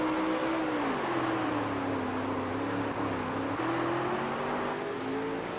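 Dirt late model race cars racing at Lincoln Speedway in a World of Outlaws dirt racing game, a continuous loud engine drone with shifting revving pitch and no breaks.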